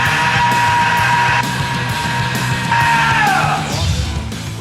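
A man screams in a screaming contest, a punk band's frontman among them: loud, sustained raw yells in several long bursts, close and strained, one breaking downward at the end, with no other talk.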